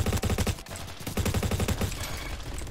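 Rapid automatic fire from a Honey Badger rifle in a first-person shooter video game, a steady stream of sharp shots in quick bursts with a brief pause, fairly close and alone.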